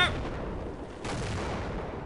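A tank fires in Half-Life, a sharp blast followed by a second loud report about a second later, each trailing into a rumbling, noisy tail.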